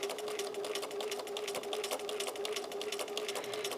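A sewing machine stitches a quilt along a marked line, running in a steady, rapid mechanical chatter with a constant motor hum throughout, close and alone.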